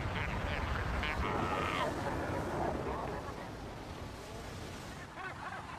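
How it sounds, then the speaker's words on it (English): Seabirds call on the Cape's rocky islands in breeding season, with noisy calls over a constant wash of surf and wind, and a narrating voice running under the scene. "It's the seabirds' breeding season too."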